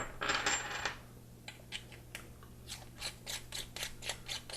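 A Simmons 22 Mag 4x32 riflescope's adjustment turret gives a run of faint, small clicks in a loose, uneven rhythm, close up and quiet, after a brief louder rustle of handling at the start.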